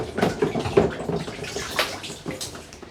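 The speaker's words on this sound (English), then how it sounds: "I have to wash my hands again though." Running tap water splashes over hands being washed, a close, steady rushing hiss with uneven splashy surges as the hands move through the stream.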